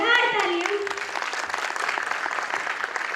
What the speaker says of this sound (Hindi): मेंटर के लिए जोरदार तालियां